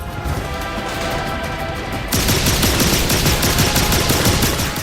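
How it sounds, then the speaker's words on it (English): Lightning gun firing in the video game The Darkness, dense continuous crackling bursts that swell louder and harsher midway, loud and sustained with no talk. "can see the spread of the lightning gun is awful."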